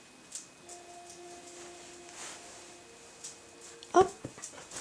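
A Belgian Malinois at bedtime lets out soft, faint whimpers, then a brief sharper yip near the end, close by in a quiet room.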